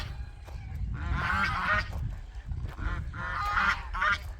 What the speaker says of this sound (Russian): О, гуси. Смотрите, какие красивые. Гуси убегают.